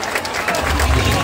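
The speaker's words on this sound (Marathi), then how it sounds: "जरा टाळ्या वाजवायच्या सर्वांनी" Crowd clapping and cheering at a Dahi Handi human-pyramid competition in Bhandup, a short burst of loud applause with an announcer's voice over it.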